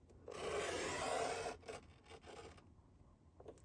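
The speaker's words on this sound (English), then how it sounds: "press that cutter in and go ahead and cut down to the 1 inch mark." A paper cutter slices down through a sheet of card: a soft, close scraping rasp lasting about a second, followed by a few faint clicks and light handling noises.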